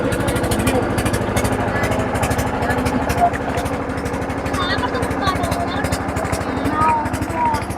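A boat engine drones steadily while crossing the water toward a waterfall in Jaflong, Sylhet, a close, loud low-pitched rhythmic throb that continues without a break under a voice.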